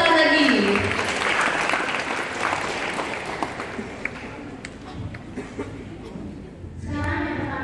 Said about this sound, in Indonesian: Ya, berarti tepuk tangan lagi.